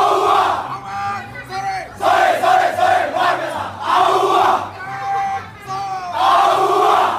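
Police officers shouting together in unison like soldiers, a loud crowd chanting in bursts that rise and fall in steady military rhythm, with a low rhythmic thump underneath.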